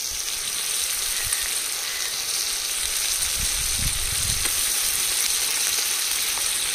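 Steady, loud sizzling of onion, tomato and ginger garlic paste frying in oil for a chicken biryani, a continuous crackle with occasional stirring thumps and no talking.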